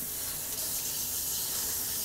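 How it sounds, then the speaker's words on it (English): A steady stream of tap water pours over a red snapper fish being rinsed at a kitchen sink, a continuous close hiss with no pauses. "And I'll wash it off here, give it a quick rinse."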